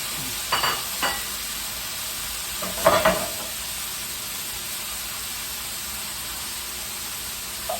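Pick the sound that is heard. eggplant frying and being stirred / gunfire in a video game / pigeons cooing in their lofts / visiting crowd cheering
eggplant frying and being stirred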